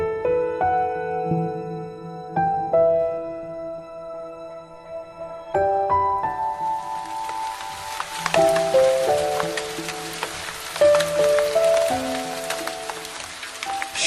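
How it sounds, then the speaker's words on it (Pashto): Rain falls at night. A soft melodic tune plays alone at first, then a dense, steady patter of rain rises about halfway through and continues under the music. "شپه ده، باران وریږي"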